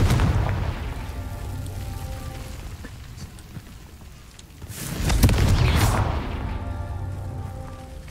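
A Confringo fire spell from Hogwarts Legacy bursts as a loud, deep explosive boom midway through, preceded by a low rumbling game ambience and followed by a fading roar.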